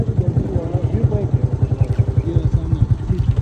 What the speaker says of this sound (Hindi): ये जी हमारे टूरिस्ट पार्टनर खुर्शीद भाई बाइक राइड करते हुए, उनके पीछे हमारे निज़ाम भाई।